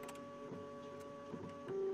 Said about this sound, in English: Is that the printer?